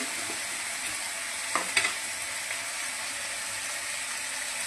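Potato sautéing with spices and ginger paste in a pan, an even close hiss of frying with a couple of brief scraping stirs midway, no voices.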